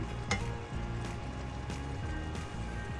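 Fettuccine pasta is stirred with a wooden spoon in a boiling pot for a mushroom sauce with Italian sausage, giving a steady bubbling, scraping noise with soft knocks, close and continuous with no talking.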